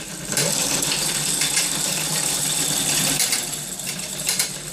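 A steady, grinding mechanical whir with rattling and scraping from an e-bike powered by a car alternator, its wheel bearings worn out, loud and continuous throughout.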